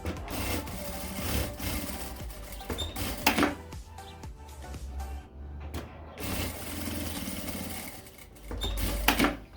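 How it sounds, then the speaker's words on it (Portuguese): A sewing machine stitches along the two sides of fabric for an easy beginner's wallet, its motor running in bursts with short pauses and rubbing, handling noises between runs, close and fairly quiet. "vamos passar uma costura nas 2 laterais, prendendo esse tecido aqui"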